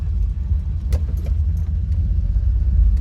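A turbocharged, EFI-swapped Mercedes W114 with an M103 engine drives along, its engine and road noise a steady close rumble throughout, with a few brief higher whistling traces that may be the turbo spooling.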